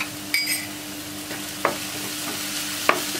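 Ginger garlic paste sautés in a hot pan for a meat filling, giving a soft, steady sizzle broken by a few brief scrapes of a spatula, quiet and close with no voices.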